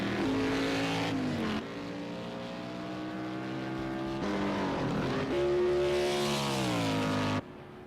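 Xfinity Series race car on the Texas roval in Project CARS 2 roaring past, engine pitch sweeping up and falling through gear shifts, loud and close, then cutting off sharply at the end.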